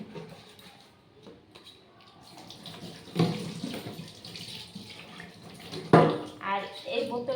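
Running water from a tap splashes over an oil bottle being scrubbed clean, with louder gushes and knocks around the middle and end, while a person talks quietly over it.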